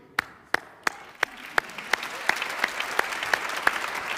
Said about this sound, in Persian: یه بار دیگه تشویقش کنیم.